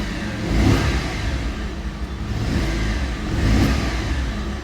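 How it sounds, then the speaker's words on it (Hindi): A motorcycle engine runs close by at a steady idle, then swells into two loud revs about three seconds apart before settling back each time. "अब बाइक को स्टार्ट भी ना साइड बाय साइड इसी पॉइंट पे कर लेते हैं"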